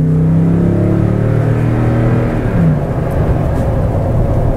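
A loud V8 engine of a 2017 Toyota Tundra TRD Pro pickup revs hard, its deep exhaust rumble climbing and falling in pitch, close by and continuous with no talking.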